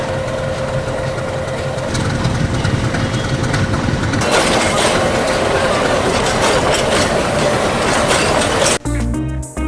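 The Ooty mountain train on its hill railway, heard up close as a loud, steady rumble of wheels on rails with clattering and a sustained mechanical hum, running continuously for several seconds before a sudden change near the end.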